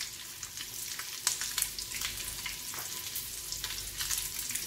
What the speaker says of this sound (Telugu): ఇందులోకి ఇప్పుడు కొంచెం కరివేపాకు వేద్దాం, ఫ్రై కదా